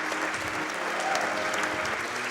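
A speedrun event audience at Summer Games Done Quick claps in a dense, continuous burst of applause, steady and fairly loud throughout.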